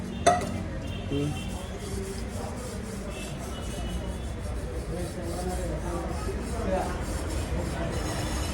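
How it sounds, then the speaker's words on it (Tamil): Metal vessels clink and scrape as they are scrubbed and rinsed at a tea stall at night, with a sharp clank at the start, under steady background noise and murmured voices. "இந்தா நம்ம டீ மாஸ்டர் வந்து பாத்திரம் கழுவுறா போல்"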